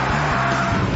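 Ford Focus ST225 engine pulling hard on the road, a steady loud rumbling drone with wind and road roar close up, no voices over it.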